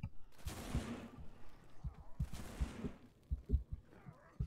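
Gunfire from a zombie survival shooter, No More Room in Hell: two bursts of rapid shots around 0.5 and 2.3 seconds, followed by scattered lighter pops and thumps, fairly quiet overall.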